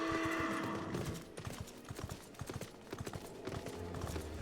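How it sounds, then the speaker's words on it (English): Horse hooves clip-clopping in Final Fantasy XIV, a steady rhythmic series of hoof strikes close by, opening with a tonal whinny-like sound before the hoofbeats continue alone. "That's an actual horse?"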